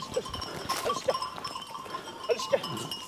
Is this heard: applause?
no